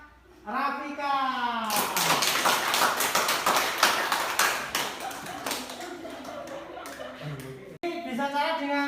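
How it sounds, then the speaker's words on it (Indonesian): A classroom of students gives a student a burst of brisk hand clapping lasting several seconds, loud and close, between a teacher's spoken remarks. "Berikan aplaus untuk Mbak Rafika"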